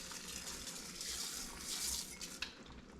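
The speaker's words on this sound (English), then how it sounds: "We're gonna add 1 cup of rice." A cup of rice poured into a pot of boiling liquid for dove jambalaya at a camp cooking setup, a soft rushing patter of grains over bubbling, with a light metallic clink near the end.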